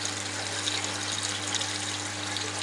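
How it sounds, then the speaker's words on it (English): Water rushes steadily through an aquarium ball valve and plumbing with a constant hiss and a low pump hum underneath, unchanging throughout. "the speed of the water running down here through the ball valve and into this section"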